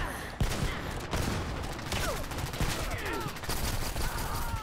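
Bursts of gunfire from the online shooter Dirty Bomb, with sharp repeated shots and rapid automatic volleys crackling over busy game noise, some close and loud, others scattered further off.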